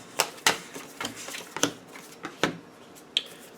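Tarot cards are shuffled by hand, giving a series of sharp, crisp riffling snaps and taps at an uneven pace, close and fairly quiet, with no talking.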